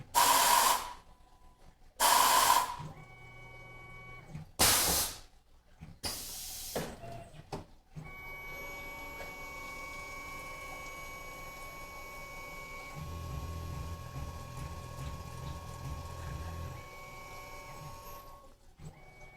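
A Tormach PCNC 1100 CNC mill opens with several loud separate bursts, then settles into a faint, steady whine with tonal hums and a pulsing low rattle partway through as it runs a machining program.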